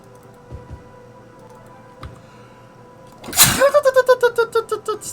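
One sharp, loud sneeze bursts out close by after a few quiet clicks during a Cities: Skylines gaming session, followed by a rapid run of short voiced pulses that fade away.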